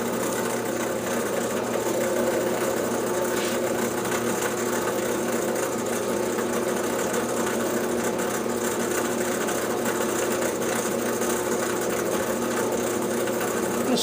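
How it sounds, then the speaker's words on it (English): A drill bit boring into a steel bolt with cutting fluid, a steady whirring motor hum with a grinding edge that runs continuously and close for about fourteen seconds, no voices. "I'm letting the drill bit cut its own path."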